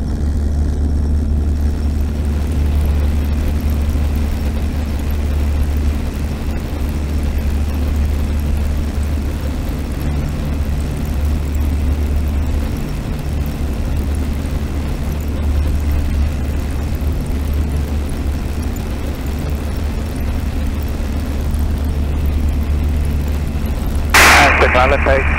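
A de Havilland Tiger Moth biplane in flight over Duxford, its engine and propeller giving a loud, steady low drone that fills the whole stretch, with a brief burst of hissy noise near the end.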